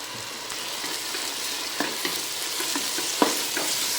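Masala for chicken rice being sautéed in a pan, producing a dense, steady sizzle with occasional light scrapes and one sharper tap of the spoon.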